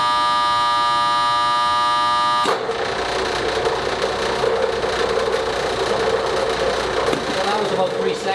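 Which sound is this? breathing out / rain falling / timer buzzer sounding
timer buzzer sounding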